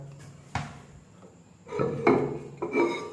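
The porcelain lid of a KARAT toilet tank is lifted and set aside while checking a leaking water inlet valve, producing a sharp knock followed by scraping, clattering ceramic contacts up close.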